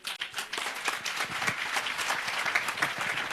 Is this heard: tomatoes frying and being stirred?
no